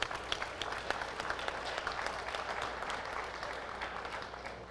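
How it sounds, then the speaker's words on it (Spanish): Audience applause for a panel speaker at a river-themed discussion, a steady, fairly faint wash of clapping from a crowd lasting throughout, with scattered sharper claps standing out. "Aplauso para Nérida,"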